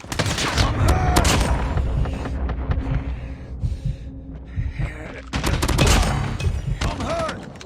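Gunfire from the mobile shooter game Call of Duty Mobile in a Gun Game Moshpit match: dense bursts of rapid shots and automatic fire, loud and close, easing briefly in the middle before heavy shooting resumes, with faint in-game voice callouts.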